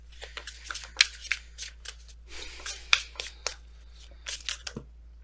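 Tarot cards are shuffled close by in quick, irregular bursts of papery flicks and snaps, with short pauses between handfuls.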